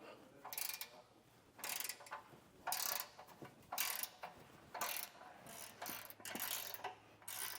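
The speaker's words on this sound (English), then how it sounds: "And with an 18 millimeter wrench, we'll get both of those removed." Ratcheting clicks from an 18 mm wrench as bracket bolts come off a 2024 Ford Bronco, arriving in repeated short bursts of close, crisp ticking with brief pauses between strokes.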